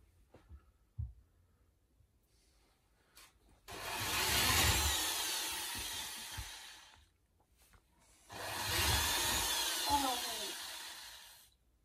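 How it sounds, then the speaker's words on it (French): A powerful large electric drill with a big bit runs in two long bursts of several seconds each, grinding loudly into wood, with quiet pauses and small clicks between. "Voilà l'outil que j'utilise. Grosse perceuse"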